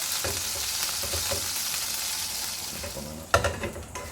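Onions sauté in hot oil in a pan for chicken adobo with pineapple. A steady close sizzle runs under scraping stirs, with a sharper clatter and louder hiss near the end.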